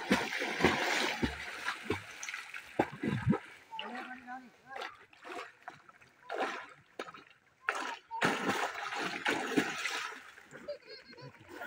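Water splashes and sloshes in uneven bursts as a man repeatedly dives under the surface of a water channel to catch a 1.5 kg fish by hand, with people talking throughout.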